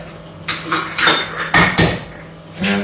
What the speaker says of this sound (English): So now we're going to beat 6 eggs.